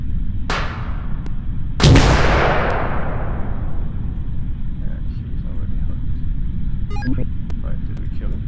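Two grenade blasts go off in a video game, a sharp crack followed by a louder, closer boom that rolls off into a long fading rumble, then quieter game sounds.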